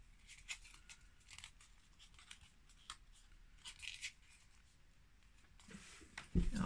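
Paper being folded and creased by hand while making a hippopotamus album, with soft scattered rustles and crinkles throughout and a louder handling noise near the end, no speech.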